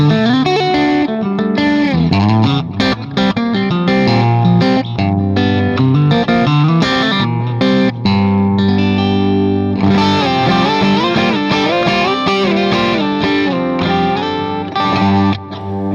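Paoletti signature electric guitar played through effects with a thick, thumping low end, distorted chords and riffs ringing out densely and continuously at close range with no talking.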